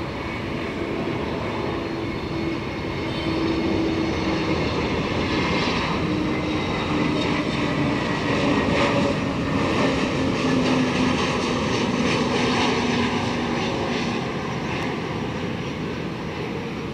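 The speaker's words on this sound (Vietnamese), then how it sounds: "Một pha đáp rất là nhẹ nhàng của Airbus A321 Asiana này." An Asiana Airlines Airbus A321 touches down at Tan Son Nhat airport after a flight from Incheon, producing a steady, loud jet roar with a faint whine that lasts throughout.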